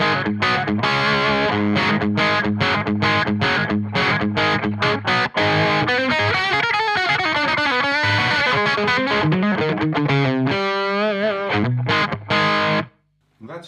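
An electric guitar on the bridge pickup plays through the SD-1 overdrive mode of a Wampler Triumph pedal, giving a loud, continuous run of driven chords and single notes that ends in a sudden cutoff to near silence.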